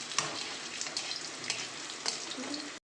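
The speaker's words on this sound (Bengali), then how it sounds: "এবার শাকটা দিয়ে কিন্তু ভাজা ভাজা করে নেবো" Lightly boiled radish greens frying in a pan with garlic and nigella seeds, a soft, even sizzle with faint scraping taps of stirring, ending abruptly.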